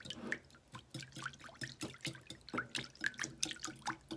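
An aloe hand sanitizer mixture stirred in a container, giving soft, wet, irregular clinks and sloshes of watery liquid, quiet and close, with no talking.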